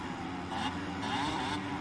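A buzzy, high-pitched two-stroke dirt bike engine in the video game Monster Energy Supercross 6, a YZ 250, drones and rises in short revving swells, sounding synthetic and thin, with no talking.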